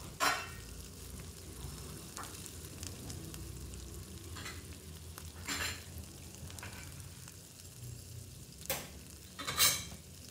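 Katla fish head curry (chachori) bubbles and fries in a covered pan over low heat. A faint, steady sizzle carries on with a few sharper scraping bursts from stirring.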